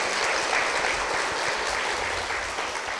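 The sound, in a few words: audience applause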